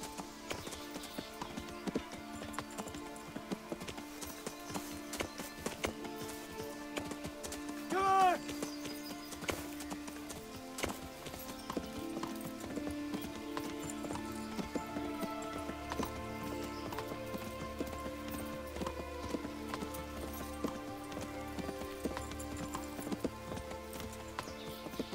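Steady clip-clop of horse hooves in the video game Kingdom Come: Deliverance, under a busy game soundtrack, with a short whinny partway through and occasional speech.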